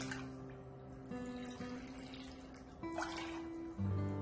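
Water poured into a pan of sugar to make syrup for kala jamun, a quiet steady trickling and splashing that shifts in pitch as the pan fills.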